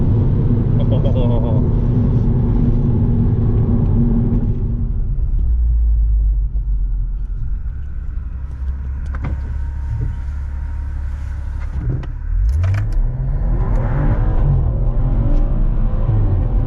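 A 430 hp BMW M135i hatchback making a launch-control start on city streets: a heavy, loud rumble idles and builds, then the engine note sweeps sharply upward as the car pulls away hard.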